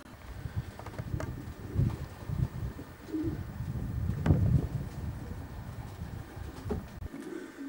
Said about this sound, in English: Real class stock pigeon.